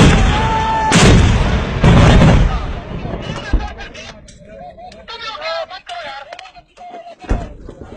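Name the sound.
army firing weapons at the border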